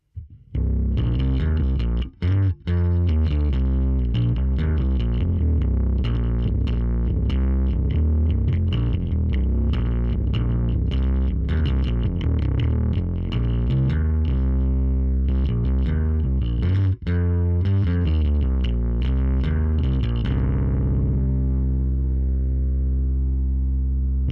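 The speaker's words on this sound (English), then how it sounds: "We'll boost the bass and the drive a bit." Bass guitar played through a Line 6 Helix with the bass and drive boosted, giving a distorted, growling tone over a continuous riff of sustained notes, ending in a fading ring.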